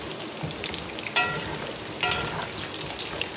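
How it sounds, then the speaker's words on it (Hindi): Potatoes frying in a cup of hot ghee for a mutton biryani give a steady close crackling sizzle, with two brief louder bursts of spitting as the pieces are stirred. "आलू हमारे फ्राई हो रहे हैं"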